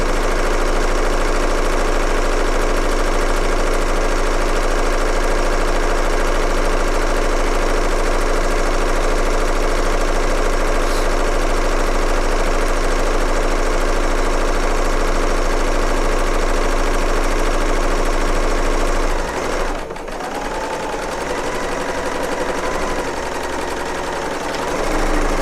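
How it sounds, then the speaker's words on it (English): A serger sewing machine stitches quilt pieces with a loud, steady mechanical whir that runs unbroken for most of the stretch, then slows and changes pitch near the end. "I like to piece on my serger"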